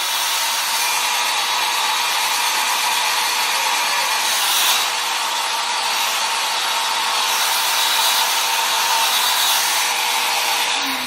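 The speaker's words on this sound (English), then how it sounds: "now it is time to finally blow dry your hair for the last time" A hair dryer runs steadily and loudly for the whole stretch while blow-drying hair after an at-home Amazonliss keratin treatment, its broadband whoosh wavering slightly as the airflow shifts.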